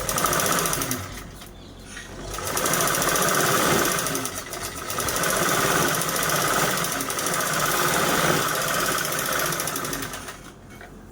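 A domestic sewing machine stitches straight quilting lines, a loud rapid whirring and clatter that runs in long bursts with brief slowdowns between them.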